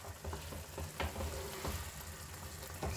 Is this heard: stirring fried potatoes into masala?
yes